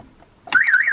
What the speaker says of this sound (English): that familiar sound of a Clifford alarm system